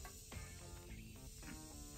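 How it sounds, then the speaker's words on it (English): Morphe setting spray mists onto a face in a few short, soft hissing bursts, quiet and close, against a faint steady background hiss. "Now I'm gonna set my face with my Morphe setting spray"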